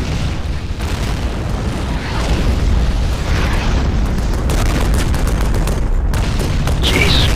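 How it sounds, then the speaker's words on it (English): A Land Mattress rocket barrage from a war game slams in as a dense, continuous roar of rumbling explosions, loud and sustained with overlapping booms and bursts and no talking. "So that rocket's coming from a great distance there. Huge land mattress coming in."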